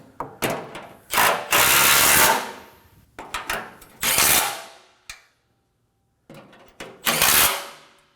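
Bursts of a power ratchet or impact tool tightening bolts on a 2017-2024 Nissan Armada during an oil change, several loud whirring runs with short gaps and brief clicks between, close up.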